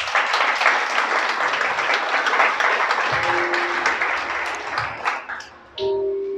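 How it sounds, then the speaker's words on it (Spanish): A church congregation breaks into applause, a thick wash of clapping that holds steady, then thins and fades toward the end as a few tonal sounds and a voice come through. "Daré un aplauso al Creador"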